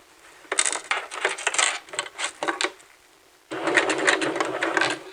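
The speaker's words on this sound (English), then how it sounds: "go ahead and sew in my side hems, and I'm going to use a 1/4 inch stitch" A sewing machine stitches side hems on a caftan with a 1/4 inch stitch, running in short close bursts, pausing, then whirring steadily again.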